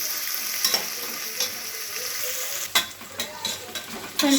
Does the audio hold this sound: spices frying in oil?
yes